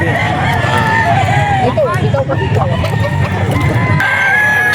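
Gamecocks at a busy market crow loudly and repeatedly, overlapping one another with clucks in between, close and under continuous chatter from people nearby.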